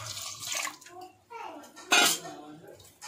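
Cooking water drained from boiled rajma (kidney beans) and poured while making rasam in a home kitchen, a short splashing gush with light pot clatter and voices talking around it.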